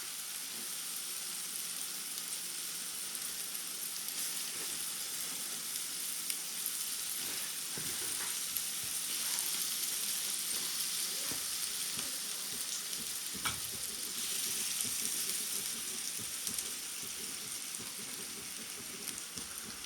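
Marinated Kanagadthalu fish for fish pulusu sizzles steadily in a hot pan, a soft, continuous frying hiss with faint crackles and a few light stirring sounds throughout.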